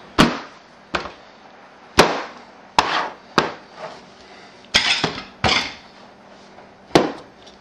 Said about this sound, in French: nous allons couper notre viande